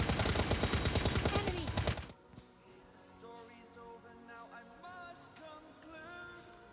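Rapid automatic gunfire sprays in a PUBG Mobile Lite match, a loud dense burst of quick shots lasting about two seconds before dropping to quieter game ambience with faint scattered effects.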